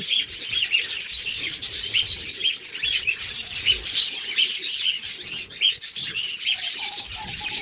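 Dense, continuous chirping and twittering of many budgerigars close by in a cage on a bird farm, overlapping busily throughout.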